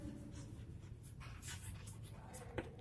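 Handwriting on paper gives soft, faint scratching strokes in short bursts over a low background hum, close but quiet.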